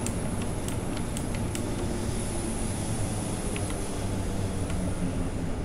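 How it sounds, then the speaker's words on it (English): A train departs in Train Simulator 2018, a steady loud low rumble of rolling stock and engine under a thin high whine, with faint clicks of wheels over rail joints scattered throughout. "might as well just watch the train depart"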